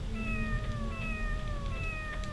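Cat meowing in the video game Tales of the Abyss: three drawn-out, falling meows come in steady succession over a constant low game hum, fairly close and clear with no talk.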